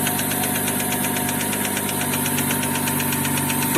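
Knocking engine in a Chevrolet Epica, a steady rhythmic metallic tapping over a continuous loud engine drone, heard up close with no talk.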